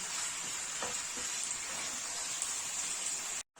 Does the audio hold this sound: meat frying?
yes